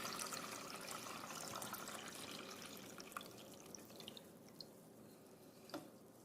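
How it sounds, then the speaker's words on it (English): Water poured into a seven-cup cold brew coffee maker makes a steady, close splashing trickle for about six seconds, with a few brighter drips near the end and no talking. "So now let's add our water. Just going to pour it in."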